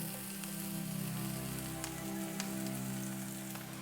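Green onion, garlic and ginger sizzle in three tablespoons of avocado oil in a non-stick pan over medium heat, a steady, close, crackling hiss with scattered pops throughout.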